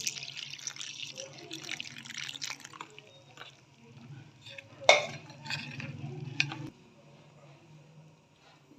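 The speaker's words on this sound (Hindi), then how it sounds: "अब मैं इसके अंदर पानी डाल के इसका ना पेस्ट बनाऊंगी।" Water is stirred into lentil batter to make a smooth paste for dahi baray, a wet sloshing and scraping that runs in uneven bursts for several seconds, near and fairly soft, then falls quiet.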